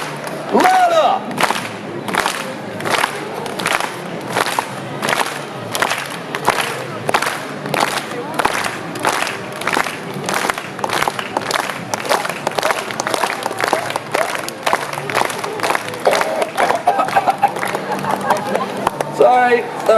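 A street magic show crowd claps in a steady rhythmic beat and cheers, the clapping sharp and continuous throughout, with a performer shouting over it.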